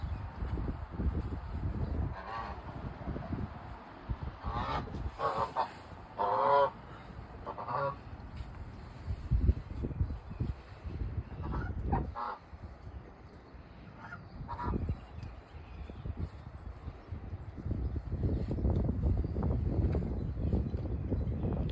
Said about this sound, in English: The goose. That's the goose. It's the goose.